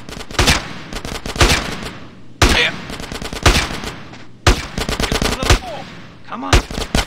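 A shootout in the game GTA San Andreas, loud bursts of close automatic and single gunfire in repeated volleys separated by brief pauses, with faint voices in the gaps.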